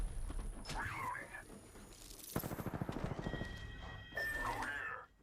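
Gunfire in a video game: rapid automatic bursts rattling through the middle of the scene, mixed with game voices and other in-game effects at moderate loudness.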